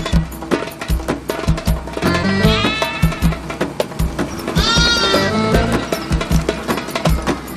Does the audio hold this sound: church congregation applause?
no